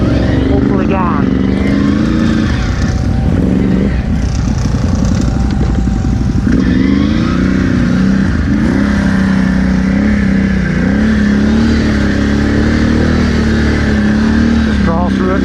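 Can-Am off-road vehicle engine running and revving in rough surges, loud and close throughout, with people talking over it.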